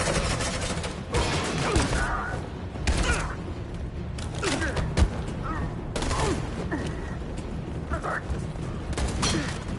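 Sustained suppressing gunfire rages in the android game Detroit: Become Human, with dense bursts of shots, crashes and mechanical clatter running continuously alongside urgent shouting voices.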